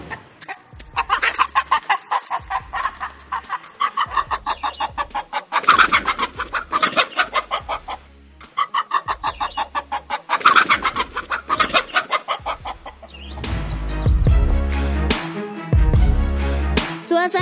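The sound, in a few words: chickens clucking on a farm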